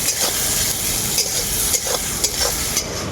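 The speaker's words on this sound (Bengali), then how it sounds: "পেঁয়াজটাকে এখন আমি খুব ভালো করে ভেজে নেবো" Onions with salt sizzle steadily in a hot pan, a continuous bright hiss broken by a few soft stirring scrapes, close and loud with no voices.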